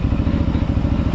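A 2016 Ducati Hypermotard 939 motorcycle being ridden, a dense low engine rumble with a rapid pulsing throb, loud and close over a short stretch.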